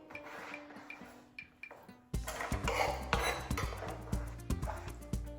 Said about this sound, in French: On prend une casserole. On met les oignons, il ne faut pas avoir peur.